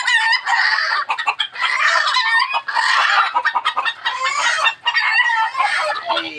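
Clucking from a half-wild labuyo bantam chicken, a string of close, busy clucks and rasping calls that run almost without a break.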